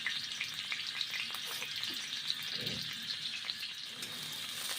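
Hot oil crackling in a pan with bay leaf and black cumin for a bhindi (okra) dish, a steady, even fry sizzle throughout with faint light pops and soft stirring, fairly quiet, no voices.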